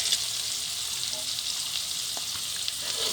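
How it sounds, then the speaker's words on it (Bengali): Garlic frying in hot oil gives a steady, even sizzle with a bright hiss that holds close and continuous from start to end, with no talking over it. "তারপরে রসুন ভেজে নেব"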